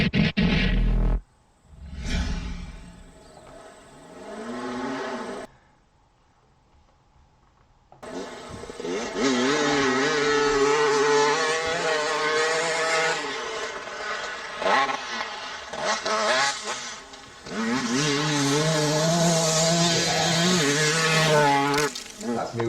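A played-back recording of a KTM 300 two-stroke motorcycle revs hard, rising and falling wails in bursts separated by short gaps and a quieter lull, loud and raspy, with faint voices in places.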